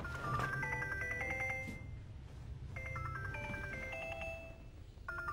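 An electronic phone ringtone trills in repeated melodic bursts with short pauses between them, clear and fairly close over a low background hum.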